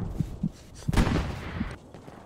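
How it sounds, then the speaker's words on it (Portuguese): Gunfire in the World War II shooter Hell Let Loose, in the streets of Carentan: a few scattered shots, with one loud close report near the middle and fainter distant shots around it. "Estou tomando altos tiros aqui."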